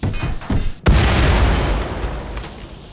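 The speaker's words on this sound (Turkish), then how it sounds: "Abi böyle bir zincirleme patlama yok." Chain explosions in the colony-building game Rimworld: a heavy boom bursts in after a brief gap, then a long rumbling blast decays slowly, preceded by a couple of smaller pops.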